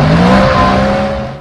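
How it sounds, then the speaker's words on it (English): An Audi engine fitted with a Prindiville stainless steel or titanium sports exhaust roars loudly and close up, holding a steady droning tone that eases slightly toward the end. "delivering a huge weight saving, power gains, and the all-important engine roar"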